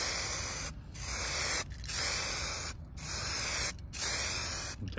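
Aerosol spray paint hissing onto a car for a touch-up coat in light, even passes, four steady bursts of close, loud spray separated by brief pauses.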